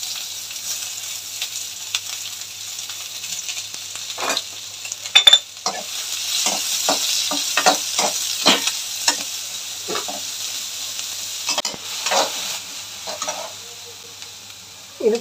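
Ivy gourd and carrot thoran stir-fried in a pan, with steady close sizzling under a run of quick scraping spatula strokes and stirring clatters, no voices.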